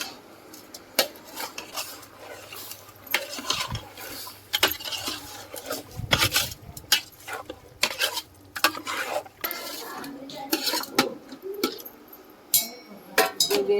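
Restaurant-style chicken fry being stirred in a pan: a metal spatula scrapes and knocks against the pan in irregular clattering strokes over a low sizzle, close and fairly loud.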